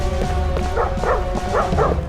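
Dog barks from the Darkenstein 3D video game, a run of several sharp yips and bow-wows in quick succession, close and fairly loud over steady game background noise.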